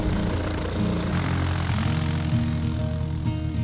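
A private propeller airplane's engine drones steadily on a runway in Corsica, a loud, continuous hum with tonal whine close by.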